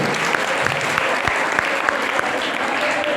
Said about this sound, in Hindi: ताली बजाओ पहले।